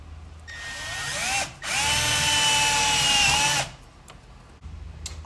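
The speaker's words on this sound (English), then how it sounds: "All right, so I drilled some holes in it." A power drill bores holes in a radiator fan shroud for a CRX radiator and 12-inch Spal fan, running in two whining bursts with a short pause between, close and fairly loud.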